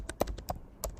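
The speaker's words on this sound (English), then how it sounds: "Type T on your keyboard and type fix" Several quick, crisp keyboard taps on a computer keyboard, close and fairly quiet, in an irregular burst of about five keystrokes.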